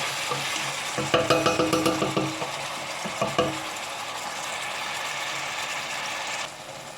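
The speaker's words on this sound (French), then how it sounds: "هاوليك راهو يتقلى" An okra dish fries in a pan, a steady sizzle overlaid early on by a quick rattling run of clicking scrapes, then a couple more before the frying settles into an even hiss that fades at the end.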